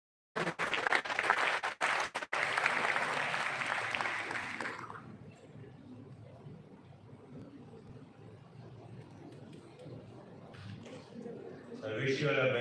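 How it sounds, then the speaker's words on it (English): Applause from a conference audience at an awards session, a loud burst of clapping that fades into quieter room ambience with some talk, then rises again near the end. "A huge round of applause."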